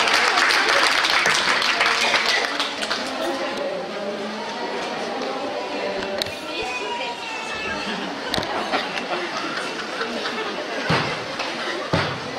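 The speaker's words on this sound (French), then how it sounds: "On applaudit." An audience applauds at a regional dance competition in Brittany. Loud clapping opens the stretch, then thins into scattered claps and crowd chatter with a few sharp knocks, and talk runs underneath.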